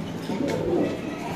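A black Mundian pigeon giving a brief, soft, low coo close by, a muffled throaty rumble over faint background noise.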